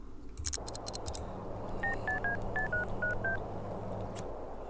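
A telephone in The Sims 2 beeps through a string of clear keypad dialing tones, seven evenly spaced beeps after a few quick clicks, over steady background game ambience.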